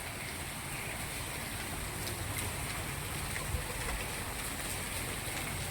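Steady monsoon rain falls in Moti Gop, Gujarat, with a continuous broadband hiss and faint patter, unbroken throughout and without any voices.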